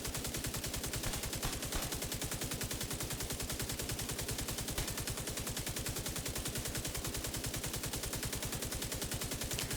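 Automatic gunfire in a video game, a rapid, perfectly even stream of loud shots hammering nonstop for about ten seconds with no pause.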